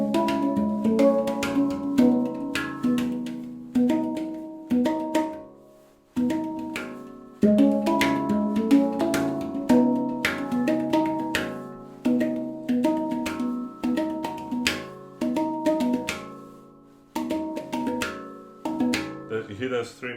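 A steel handpan rings out a series of struck notes in a flowing melodic pattern, each note decaying with a shimmering sustain, with short pauses between phrases and moderate loudness.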